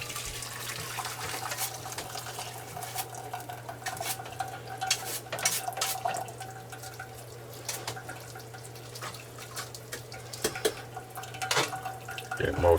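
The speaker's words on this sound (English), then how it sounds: "now we'll just take and run this through a strainer." Homemade dark chicken gravy poured through a strainer in an off-grid kitchen, a faint trickle with drips and clinks of metal and utensils over a low steady hum, fairly quiet.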